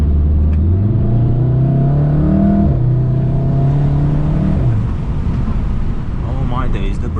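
Volkswagen Golf R with a 4-cylinder turbo engine accelerating hard uphill on a road in Japan, steady loud engine drone rising through the gears with a smooth shift midway, heard from inside the cabin while someone talks over it.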